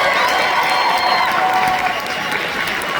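A concert crowd at the Palace Theater in Los Angeles applauds and cheers loudly, a thick, sustained wash of clapping with whoops and shouted voices mixed in, steady throughout.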